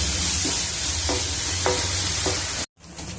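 Green chilies, onion, ginger and garlic fry in a pan for a bottle gourd curry, giving a steady loud sizzle with a few soft scrapes of stirring, and a sudden brief dropout near the end.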